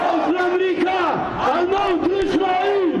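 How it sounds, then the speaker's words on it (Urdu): Crowd of Houthi rally-goers in Sanaa, Yemen, chants slogans against America, a dense mass of loud rhythmic voices shouting in repeated waves without pause. "حوثی باغیوں کی ایک ریلی میں شرکاء نے امریکہ کے خلاف بھی نعرے لگائے"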